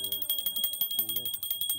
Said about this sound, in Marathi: घंटी घे